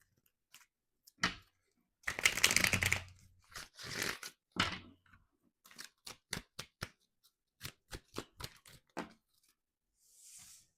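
Tarot of the Divine cards being shuffled and handled, with a burst of riffling and tearing-like rustles early on, followed by a string of short, crisp card snaps and taps in an irregular rhythm, close and fairly quiet, with no talking.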